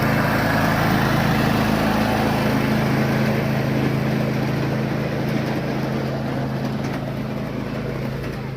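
An EMD 645 diesel engine idles in a locomotive at a C&O Railway Museum event, giving a steady, loud, close rumble with a constant low drone that runs unbroken throughout.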